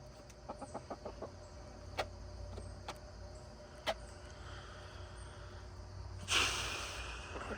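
Faint, scattered chicken clucks and a few sharp clicks rise out of a low, quiet background hum in a backyard flock, with no one talking.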